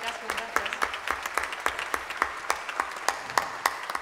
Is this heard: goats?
no